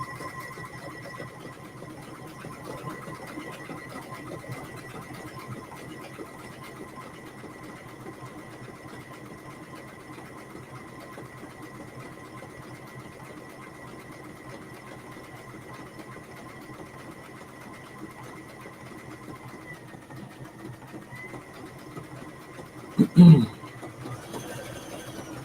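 Sewing machine quilting fabric, guided along the edge of the presser foot, running as a long steady whirring hum with one brief loud knock near the end.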